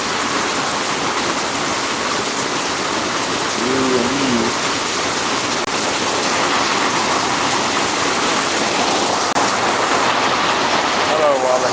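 Heavy rain falls steadily outdoors in a constant broadband hiss, with a brief low animal call partway through and a short spoken phrase near the end.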